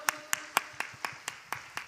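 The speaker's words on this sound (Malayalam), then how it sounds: "ഒരു നല്ല കയ്യടി കൊടുത്ത് കർത്താവിനെ മഹത്വപ്പെടുത്ത്." Congregation at a church worship service clapping in a slow, steady rhythm, eight distinct claps spaced about a quarter second apart, moderately loud with no talking.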